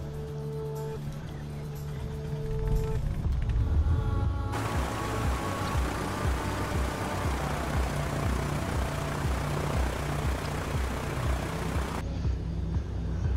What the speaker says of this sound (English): let's fire our little used Cessna up